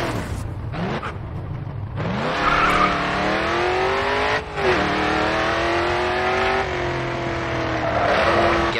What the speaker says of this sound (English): tap the brake, and steer hard into the next turn. Continue to turn and the back end will begin to slide out.